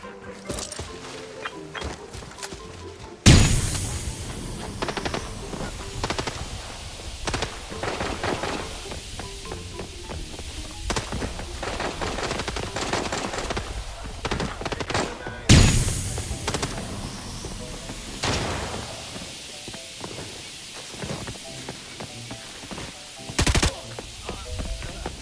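Gunfire in a night-mode match on the Valley map of a tactical shooter, with loud sudden bursts hitting twice and then steady rattling shots and scattered reports continuing under light background noise.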